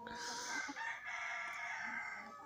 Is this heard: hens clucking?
yes